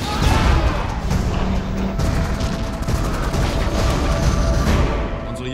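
Dense, loud rattling gunfire from WWII aerial combat between fighters and bombers, rapid bursts and booms layered over engine roar, continuous throughout.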